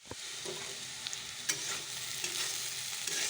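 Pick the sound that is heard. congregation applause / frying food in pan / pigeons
frying food in pan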